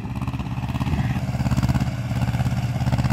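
A heavy Ursus C-330M tractor engine chugs steadily with a rapid rhythmic pulse, close and loud, working under load while ploughing stubble.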